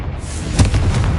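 A single booming blast from the Confringo curse in Hogwarts Legacy, a deep thud and burst midway through a short rumbling bed, loud and close, with no voices.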